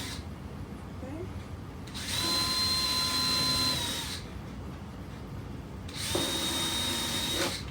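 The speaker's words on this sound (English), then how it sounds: "I'm gonna pre-drill my holes." A power drill pre-drilling holes for a DIY potato and onion bin whirs in two steady bursts of about two seconds each, its high whine rising over a quiet room with faint background noise between.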